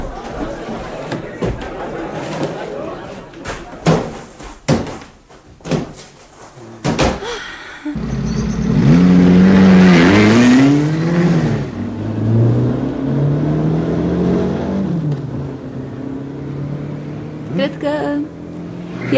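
A car engine starts and drives off in a radio drama, with door slams and voices at first, then a loud revving engine swelling and pulling away before fading.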